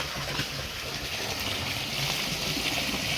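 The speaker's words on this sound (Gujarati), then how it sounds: "બોરનું પાણી આયા બોર का पानी आया" Borewell water gushes out in a loud, continuous rushing hiss, steady and close, with no pauses or voices.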